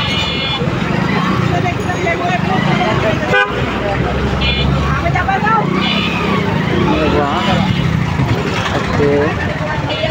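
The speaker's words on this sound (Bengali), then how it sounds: "এই রাস্তায় আবার দেখি জ্যাম।" A jammed street in Bangladesh: vehicle horns toot repeatedly over idling car, bus and truck engines, with a person talking close by through the traffic din.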